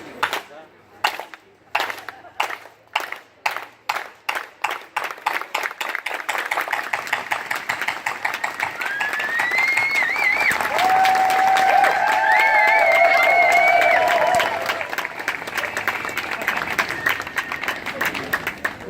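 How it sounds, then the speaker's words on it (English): Building clap from a crowd at a rally in Sacramento: slow, separate handclaps that speed up into loud, continuous applause, with a few whistles and cheers near the peak. "join me in a clap, and it's a building clap, so it starts slow and it gets bigger."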